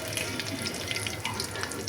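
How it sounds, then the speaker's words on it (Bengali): Battered eggplant slices (beguni) deep-frying in hot oil, a steady dense hiss and crackle that runs continuously and fairly loud close up, with no talking. "বেগুনি ভেজে নিচ্ছি"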